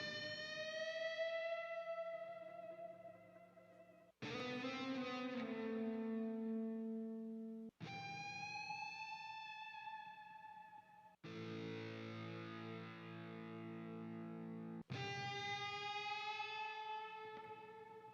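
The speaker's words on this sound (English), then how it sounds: "Added some more guitar." Electric guitar run through effects in an R&B beat, five long sustained chords, each struck cleanly and left to ring with a swirling, slightly distorted shimmer before the next begins, alone without voices.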